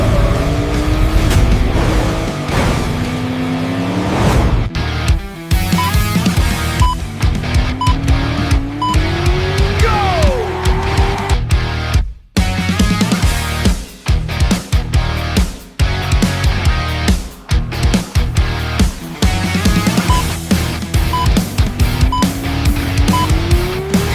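A Hot Wheels toy car race: a loud, continuous rush of rolling, whirring cars with sliding, rising and falling whines and sharp clattering bursts, and no talk.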